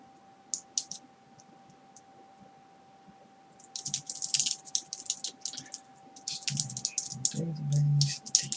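Computer keyboard keys clatter as someone types code, starting quietly, then breaking into dense, rapid bursts of clicks from the midpoint on, over a steady electrical hum, with a brief low murmur near the end.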